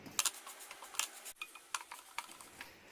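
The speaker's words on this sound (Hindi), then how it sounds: "अब इसको भी चीनी को पिघलने देंगे और कड़छी लगातार चलाएंगे।" A ladle clinks and scrapes against a pan while sugar melts over low heat for makhana, giving a run of close, irregular metallic taps and light scraping with quiet gaps between.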